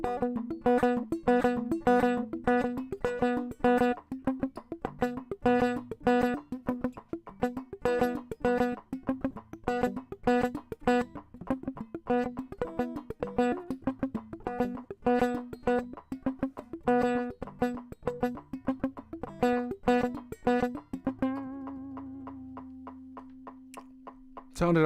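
Rapid guitar exercise played in double time, a fast steady stream of plucked notes with percussive attacks for about 21 seconds, ending on a sustained ringing chord.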